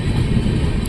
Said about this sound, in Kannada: ಭಾರತ್ ಗೌರವ್ ಟ್ರೈನ್ ಇಲ್ಲಿದೆ ನೋಡಿ